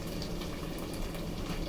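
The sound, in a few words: onion added to rendered sausage in pan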